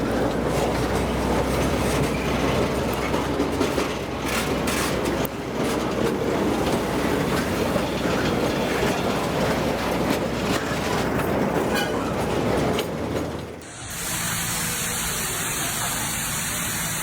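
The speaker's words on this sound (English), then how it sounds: "In Belawan, a train moves straight through a crowded market." A train rolls straight through a crowded market in Belawan, its loud continuous rumble and rattle filling the space before it abruptly cuts to quieter, higher-pitched ambience near the end.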